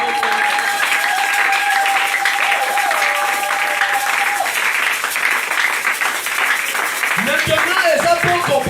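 A church congregation applauding in an assembly in Kinshasa, a loud continuous wash of clapping and crowd noise, with sustained tones and sung or shouted voices rising above it toward the end.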